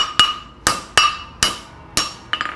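Hammer blows forging a horseshoe on an anvil, six sharp metallic ringing strikes at an uneven pace, each decaying quickly, close and clear with no voices.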